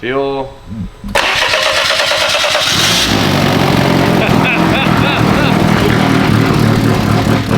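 A BMW engine swapped into a Volkswagen cranks briefly, then fires and settles into a loud, steady, rough idle that runs to the end, with people talking faintly underneath.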